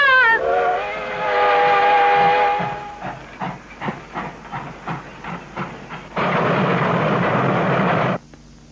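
A steam train pulls out with its wagons: a loud whistle blast, then a run of rhythmic exhaust chuffs, followed by a long, forceful hiss of steam before it cuts off.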